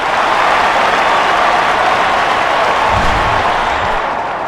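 Home crowd in the MLB 09: The Show baseball video game roars in a steady, loud wash of cheering and clapping after a base hit, filling the stadium with no voices above it.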